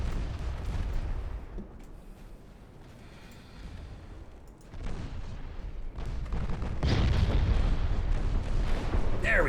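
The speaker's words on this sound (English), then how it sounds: "torpedo detonation" A torpedo detonation in the naval video game Ultimate Admiral Dreadnoughts, heard as heavy booming rumbles that swell and subside, with a loud sustained blast toward the end amid ongoing battle noise.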